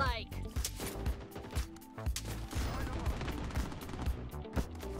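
Gunfire in the Bloodstrike shooter game, rapid loud bursts of shots with sharp cracks and rattling automatic fire packed closely together, mixed with game voice lines and other effects over the action.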